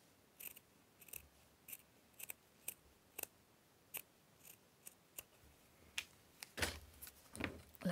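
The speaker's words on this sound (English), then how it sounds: "what I'm going to do is cut that bit to size" Scissors snip paper to size for a junk journal, a series of sharp, close cuts in an irregular rhythm, quiet between snips and a bit busier toward the end.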